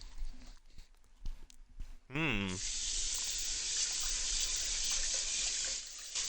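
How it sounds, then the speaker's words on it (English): A pan rinsed under a running kitchen tap: a few clinks and knocks, a brief gurgling splash, then a steady loud stream of water hissing into the sink until it cuts off near the end. "I'm quickly cleaning my pan off camera."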